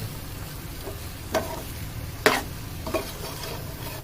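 Bottle gourd being stirred into spices in a pan, a soft steady sizzle with a few brief scraping stir strokes, three distinct clatters spaced across the few seconds.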